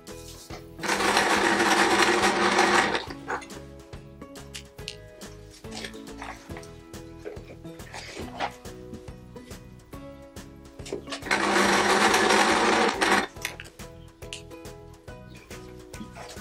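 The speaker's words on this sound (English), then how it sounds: "I'm now going to sew them onto our center square" Sewing machine stitching patchwork quilt sections onto a centre square, two loud bursts of steady whirring stitching separated by quieter clicks and handling of the fabric.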